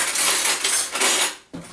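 A spoon dollops cheesecake batter into a Bundt pan, making close scraping and clinking contacts against the metal over a soft hiss, followed by a brief pause and one more clink.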